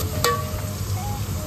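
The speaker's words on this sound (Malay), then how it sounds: "Gaul sekejap sampai dia masak." Minced chicken sizzles steadily in a hot pan while it is stirred, a close, continuous frying hiss with a soft scrape of the utensil.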